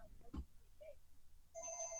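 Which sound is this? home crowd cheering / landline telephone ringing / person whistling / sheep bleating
landline telephone ringing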